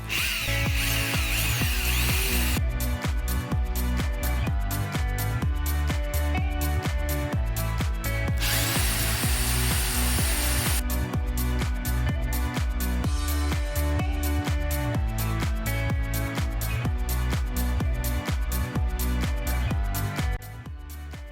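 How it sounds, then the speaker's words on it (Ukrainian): A power drill bores screw holes in laminate panels for an ant farm, whining in repeated sharp bursts with brief gaps between them, loud and close, with no talking. "А далі я хочу просвердити там, де буду кручувати шурупи."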